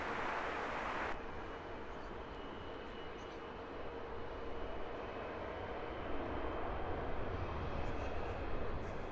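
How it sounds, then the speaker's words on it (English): Air Bulgaria airliner taxiing at Heathrow Airport, a steady distant jet engine rumble and whine held at an even level throughout, with no talk over it. "How quick is this Air Bulgaria taxiing?"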